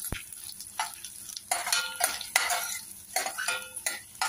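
Curry leaves, black pepper and fenugreek seeds dry roasting in a pan over low flame, with a soft sizzle and repeated scraping strokes of a spatula against the metal.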